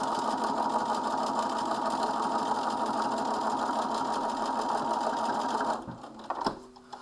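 A sewing machine runs continuously while edge stitching a coat seam, a fast steady whirring stitch rhythm close by that stops near the end, followed by a few faint handling clicks.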